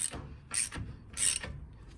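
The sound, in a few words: wrench tightening nut on Mercedes 107 SL brake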